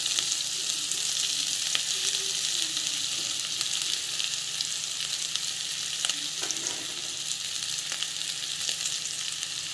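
Potato masala with asafoetida sautéing in a pan, a steady close sizzle and crackle of frying with occasional soft stirring scrapes, continuous throughout.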